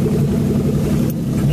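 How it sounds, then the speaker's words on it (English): A car with four flat tyres, every tyre off the rim, is dragged along on its bare wheel rims on a dusty day, giving a loud, continuous close rumble and grind. "He's just dragging it down here on the rims."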